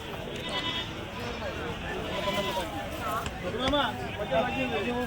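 Goats bleat repeatedly amid a busy crowd at a goat market in Chalisgaon, India, with people talking nearby over a constant background murmur.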